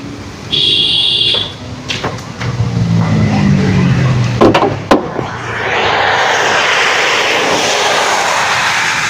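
A 2019 Ford EcoSport Titanium engine runs with the bonnet open, settling into a smooth, steady, loud roar after a few sharp clunks and knocks early on.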